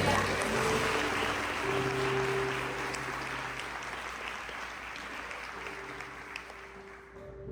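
A church congregation applauds during a sermon, with a soft, steady patter of clapping heard from a distance over a low electrical hum.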